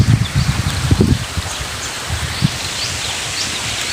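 Heavy rain patters densely and steadily outdoors, a close hiss with a few heavier drops and rustles at the start that ease into an even wash.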